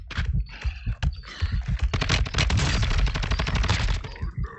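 Rapid bursts of gunfire in the video game Call of Duty: Warzone, single shots building into sustained automatic fire, loud and close, with no voices.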